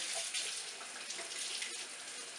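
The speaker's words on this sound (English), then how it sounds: "I like to use cold water, so I run it through." Cold water runs steadily from a tap into a shaker cup, a continuous bright hiss and splash lasting throughout at a moderate, even level with no talking.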